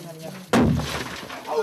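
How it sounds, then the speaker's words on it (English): Earth cracking as rock pressure releases during a seismic event deep in a South African gold mine near Carletonville: a sudden sharp bang with a rumbling decay after a quiet hum, a single abrupt burst. "The sound you just heard is literally the cracking of the earth as pressure is released."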